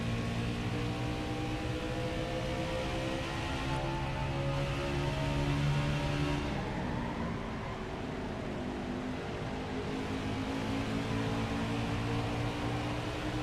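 A steady video game race car engine drone hums continuously with shifting tones, idling and revving, with no voices.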